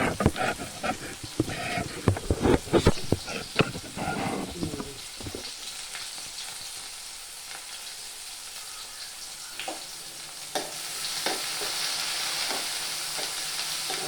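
Onion, tomato and green chilli frying in a pan, starting with loud scraping and stirring clatter over a sizzle, then settling into a quieter steady hiss with occasional soft stirs.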